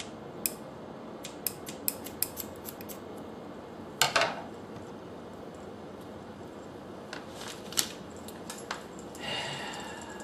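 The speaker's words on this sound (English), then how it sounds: "take your elastic band and cut a little hole in it" Scissors snipping a small hole in an elastic band while making a fabric mask: scattered crisp clicks and snips, one sharper cluster partway through, quiet and close with no talk.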